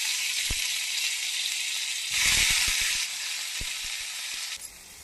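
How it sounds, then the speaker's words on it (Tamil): Chopped onions frying in hot oil in a kadai with mustard seeds and fenugreek for pumpkin sambar, a steady loud sizzle that surges midway, with a few sharp pops and spatula taps, no talking. "அப்புறம் பொடியாக அரைஞ்சி வச்ச வெங்காயம் போட்டுக்கோங்க."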